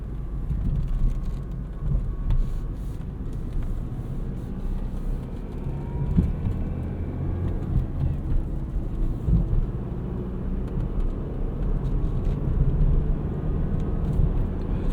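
A 2012 Ford Fiesta SE manual hatchback being driven, heard from inside the cabin as a steady low engine and road rumble with a wind-like rush that holds throughout.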